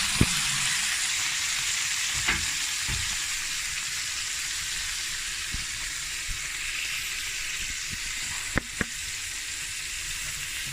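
Raw nettles and homegrown garlic sizzle steadily in local butter in a pan, a loud, constant hiss broken by a few sharp clinks and taps of a utensil.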